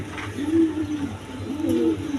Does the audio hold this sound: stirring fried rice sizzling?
no